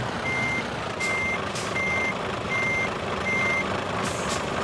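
Steady reversing beeps from a truck in Euro Truck Simulator 2, five evenly spaced tones repeating about every second over a constant low engine rumble, with no talking.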